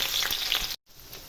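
Chopped onions hit hot oil in a pan while bataka poha is being cooked, giving a loud, steady frying hiss that cuts out briefly and resumes more quietly.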